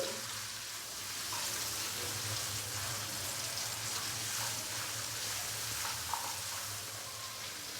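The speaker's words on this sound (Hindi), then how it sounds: "लहसुन के पेस्ट को हम हल्का सा फ्राई कर लेंगे ताकि इसका कच्चापन खत्म हो जाए" Garlic paste frying lightly in a pan for degi chicken vegetable fried rice, a steady soft sizzle that carries evenly, close and low in level, with no talking.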